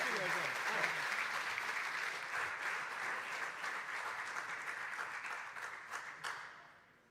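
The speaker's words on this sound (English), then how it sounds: "So give them a huge applause for Melbourne" A large audience applauds the Monash team from Melbourne at the Formula Student Germany 2024 business plan finals. The clapping is dense and sustained for several seconds, then fades out at the end.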